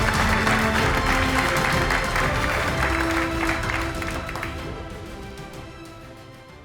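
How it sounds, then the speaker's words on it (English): Audience applause at a pickleball hall of fame ceremony, a sustained round of clapping that holds steady and then slowly tapers off, with faint murmurs underneath. "How about one more round of applause for Bill Booth?"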